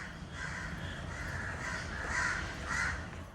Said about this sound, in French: c'est le comportement étrange des corbeaux